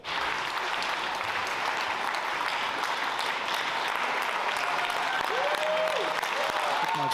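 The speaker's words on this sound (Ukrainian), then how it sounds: "Утім, з оплесками депутати проголосували за відставку міністра юстиції Малюську." Sustained applause from deputies in the Ukrainian parliament during a vote on dismissing the justice minister, a dense, even roar of clapping that runs throughout without talk.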